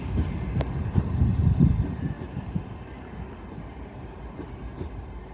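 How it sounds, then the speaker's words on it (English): A nine-car LNER Azuma train pulls into Doncaster station, a low rumbling roll with clatter that is loudest early on and then fades to a steady, quieter hum. "Arriving in now is your 1315 LNER Azuma service from London King's Cross to Harrogate via Leeds"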